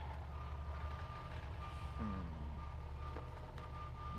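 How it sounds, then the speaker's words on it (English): A garbage truck near a riverside campground gives a faint steady series of reversing beeps under a low engine rumble, with a brief tonal squeal partway through. "Trash truck."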